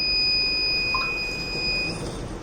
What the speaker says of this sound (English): So here we can see the buzzer alert